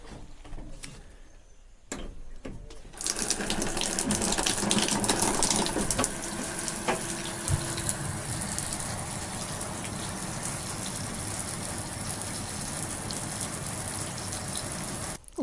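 Water runs steadily from a shower in a jungle house, a continuous close hiss and spatter that swells after a few seconds and then holds even.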